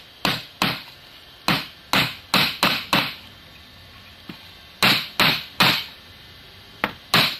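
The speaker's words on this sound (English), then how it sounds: "now I'm just going to pound him into the wood." A hammer drives a wire spring holder into a wooden base with a dozen sharp, close strikes, delivered in quick bursts of two or three with short pauses between, no talking.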